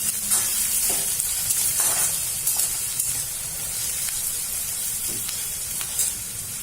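Garlic and onions fry in a pan for kanda poha, giving a steady, close sizzle with soft stirring scrapes and no talk.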